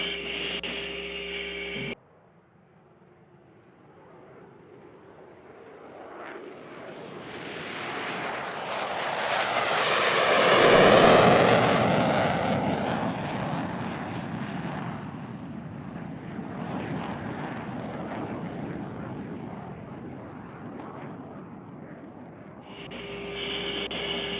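A NASA X-59 quiet supersonic jet passes after takeoff, a roar that builds from distant to loud overhead and then fades into a long trailing rumble, with brief radio chatter at the start and end.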